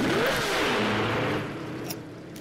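A car engine in a racing video game, a loud buzzing rev that rises in pitch and then drops away to a quieter hum, with no voices over it.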